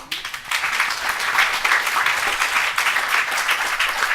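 Steady applause from an audience at the close of an academic panel on cultural production in the Gulf, dense continuous clapping filling the room throughout with no pauses.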